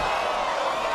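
A crowd at a fight event cheering and whooping, a dense, loud wash of voices that stays continuous throughout the brief moment.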